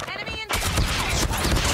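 Video game gunfire bursts in abruptly after a brief quieter lead-in, becoming a dense, loud rapid volley that fills the rest of the moment.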